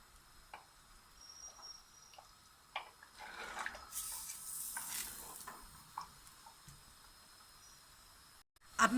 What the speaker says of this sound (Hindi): 5 से 6 मिनट तक हम इसको चलाएंगे, मसालों को मिक्स करेंगे